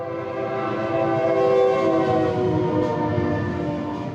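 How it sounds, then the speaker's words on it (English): A train passes close by with a loud, sustained horn blast sounding over the rumble of the rail cars. "I'm going to wait for the train to pass by before I continue speaking here"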